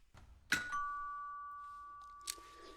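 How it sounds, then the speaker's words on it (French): A doorbell chimes two tones, a clear ding-dong ringing out and fading, with a faint knock or click near the end. "Alors, elle est où la sonnette? Elle est là."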